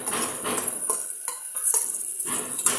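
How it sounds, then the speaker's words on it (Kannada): Cauliflower tossed into hot oil in a pan, with a steady sizzle under repeated scraping and clinking of a metal spoon against the pan, close and fairly loud, with no talking. "ಫಸ್ಟ್ ನಾನು ಹೂಕೋಸನ್ನು ಹಾಕ್ತೀನಿ"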